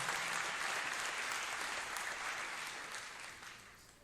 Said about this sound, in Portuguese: Quem recebe esta palavra, aplauda o nome do Senhor.